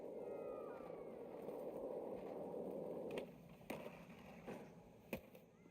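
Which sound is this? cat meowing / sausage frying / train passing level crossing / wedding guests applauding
cat meowing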